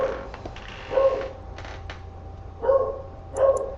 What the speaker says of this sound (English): I think we just got a UPS package and my dog just kind of went crazy.